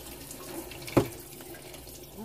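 Running tap water pours into a cooking pan in a home kitchen, a steady rushing stream with one brief louder splash partway through, close and with no talking.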